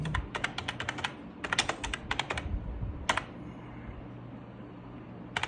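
Rapid typing on a computer keyboard, quiet and close, with a burst of clustered keystrokes, a brief lull, a single tap and then near silence.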